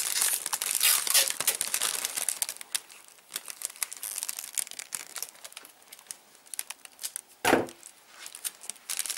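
Paper and adhesive tape crinkling and rustling as a Christmas gift of exotic fruit is wrapped, with close, continuous crackling handling noise and a sharp tearing rip near the end.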